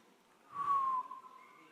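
Someone in an emergency medicine conference audience whistles a single steady tone that rises briefly and then drifts slightly lower. A fainter second whistle follows, over a quiet room with no talking.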